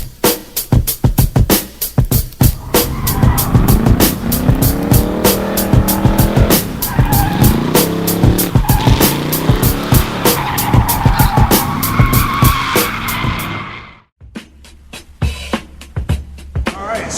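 Tires of a 1989 Ford Mustang GT Foxbody squeal and skid through a long howling burnout while the engine roars at high revs, loud and close, before cutting off into a brief sputtering idle.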